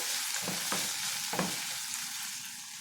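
Tomato pieces softening in a pan for an egg keema curry, a continuous close sizzle with a few short stirring scrapes near the start, moderately loud and without speech.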